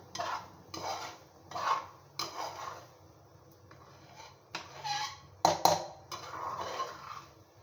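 Semolina (suji) roasting in a pan for pudding, with a spoon scraping and stirring in repeated rhythmic strokes and occasional metallic clinks, moderately quiet and close.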